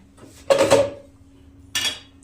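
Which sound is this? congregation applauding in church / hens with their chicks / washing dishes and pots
washing dishes and pots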